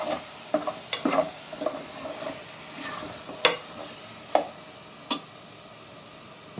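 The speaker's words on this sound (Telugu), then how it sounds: "టమాటాలు ఇంకొంచెం కుక్ అవ్వాలి. ఇప్పుడు ఆయిల్లో మగ్గుతూ ఉన్నాయి" Tomatoes softening in hot oil in a pan for a spinach and tomato curry, with a low steady sizzle broken by several sharp scrapes and taps of a stirring spoon. Close and moderate in level, with no one speaking.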